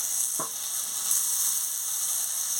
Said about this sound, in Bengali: পেঁয়াজ দিয়ে ভালো করে আলু আর বেগুনের সঙ্গে ভেজে নিচ্ছি।